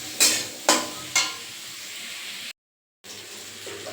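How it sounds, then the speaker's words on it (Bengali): Potatoes fry in a pan, giving a soft steady sizzle broken by three sharp scraping stirs near the start and a brief silent gap partway through. "আলুগুলোকে একটু লাল লাল করে ভাজা হবে"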